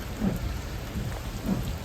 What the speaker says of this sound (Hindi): तगड़ी बारिश हो रखी है यार, अभी भी हो रही है, बहुत तगड़ी चल रही है।